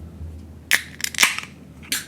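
A beer can cracking open, several sharp hissing pops and snaps close by, over a low background hum.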